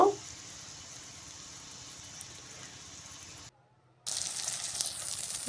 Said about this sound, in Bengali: তেলটা গরম হয়েছে এরপরে আমি টমেটো দিয়ে দিলাম এক পিস করে করে টমেটোগুলো একটু ভেজে নিব